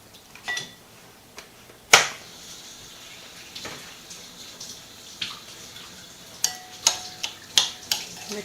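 Cucumber salad being stirred with white vinegar in a bowl, giving a string of sharp clinks and wet taps: a few scattered early, then a quick rhythmic run of utensil strikes near the end, close and fairly quiet.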